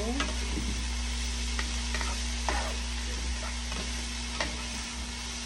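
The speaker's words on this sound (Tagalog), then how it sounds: "high fire muna tayo. Yan. Saute lang natin yan." Tofu and bok choy sautéing over high fire in a pan, a steady loud sizzle broken by scattered clanks and scrapes of a stirring utensil, with no voices.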